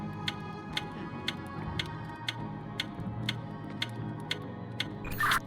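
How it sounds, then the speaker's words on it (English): Pendulum clock in the video game We Were Here Together ticks steadily at an even, moderate pace, crisp and close, with a brief louder mechanical burst near the end. "Do you hear your pendulum making any ticking?"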